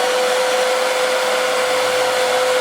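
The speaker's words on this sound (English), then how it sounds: "And blow dry once again." Hair dryer blowing steadily on a curly 99J frontal wig, a loud continuous whirring hum with a fixed motor whine, close and unbroken throughout with no talking.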